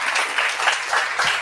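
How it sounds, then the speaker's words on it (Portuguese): A church congregation bursts into applause, a dense wash of many hands clapping together, loud and continuous for a brief stretch with faint voices mixed in. "Dê um aplauso a Jesus."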